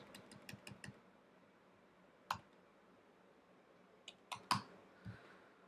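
Sparse keyboard clicks while typing in a note-taking app: a quick burst of four or five taps at the start, a lone click near the middle, then a few more taps toward the end, soft and close with no voices.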